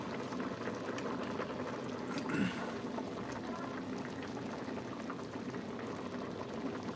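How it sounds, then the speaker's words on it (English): A pot of garlic and herb soup made with olive oil sits at a rolling boil, a continuous close bubbling with a brief louder splash of liquid early on. "Just gonna let it kind of roll and boil for just 1 second."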